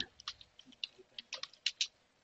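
Keystrokes clatter on a computer keyboard as a Linux install command is typed, a dozen or so quick, irregular taps close up with brief pauses between them and no voice.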